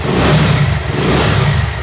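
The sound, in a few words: used motorcycle engine revving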